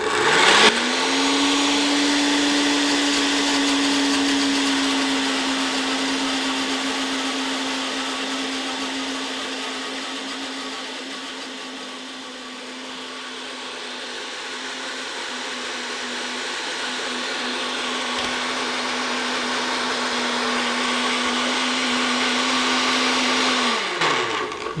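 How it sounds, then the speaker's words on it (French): A blender whirs steadily at high speed while emulsifying a vinaigrette as olive oil is poured in, a loud continuous motor whine that dips slightly mid-way and cuts off at the end. "Nous allons ajouter l'huile d'olive pendant que ça est en train de tourner"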